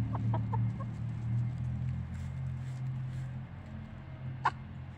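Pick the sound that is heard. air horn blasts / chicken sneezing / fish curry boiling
chicken sneezing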